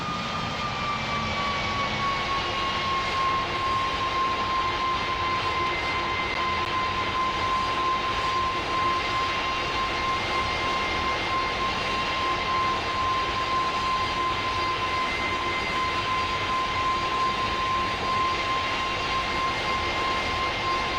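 Jet engines of a Boeing 747 freighter on landing approach in the PTFS flight game, a steady continuous roar with a sustained high whine throughout, loud and unbroken without talk.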